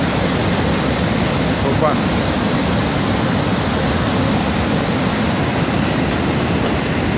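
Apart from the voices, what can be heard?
water gushing from a broken water pipe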